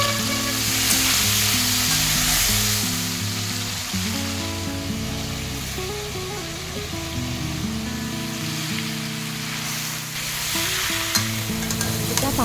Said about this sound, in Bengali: এবার কড়াইতে তেল দিয়ে আমি আলুগুলো হালকা ভেজে নিব, তার সঙ্গে আমি এঁচোড়টাও ভেজে নিব।